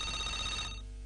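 A telephone rings with a bright electronic trill, close and steady, cutting off near the end of the short moment.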